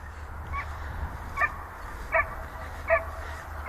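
A dog gives short, high whimpering yips, four of them spaced about evenly over a few seconds. They are moderately close and sound against a faint low background hum.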